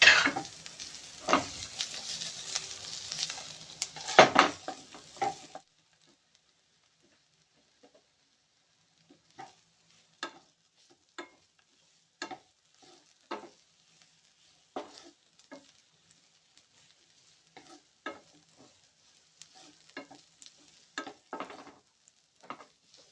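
Onions go into a hot pan with a loud burst of sizzling and stirring, then the frying drops away to quiet, leaving regular spoon scrapes and stirs at a steady pace.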